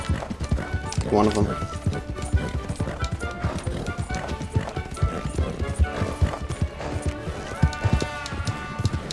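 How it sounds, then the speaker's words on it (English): Horses clip-clop in Red Dead Redemption 2, in Red Dead Online, with steady, rhythmic hoofbeats running through the whole stretch, close and clear, while someone talks over them. "I'm about to steal these horses."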